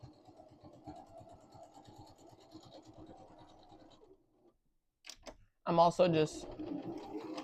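A sewing machine stitches through denim jeans with a steady, low mechanical whir, then stops. A person talks afterwards.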